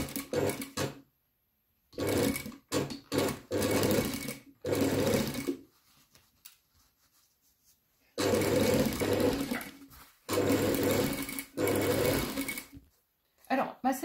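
A sewing machine stitches a rib around the edge of a belt, running in several loud, steady bursts of rapid mechanical whirring separated by pauses, with someone talking in the gaps.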